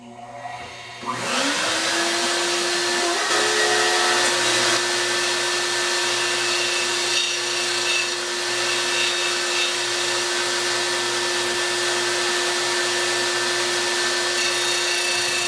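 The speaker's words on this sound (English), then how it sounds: "So I'm going to do that over here on my sander." An electric bench sander runs steadily and loudly, taking about a 32nd of an inch off the top of a skull-mount piece, a continuous motor whine starting after a second and holding without any talk.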